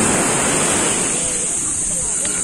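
Loud, steady roar of strong ocean surf crashing close by at a beach in Lian, Batangas, a dense wash of noise with no pauses and no talking.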